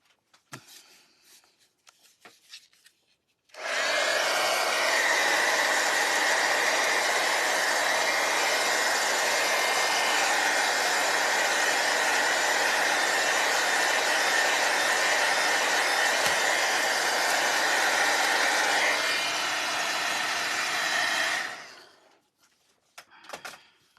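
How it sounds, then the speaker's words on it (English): A hair dryer roars on with a steady, loud whoosh of blowing air for about eighteen seconds, then cuts off abruptly. "hit that with a blow dryer"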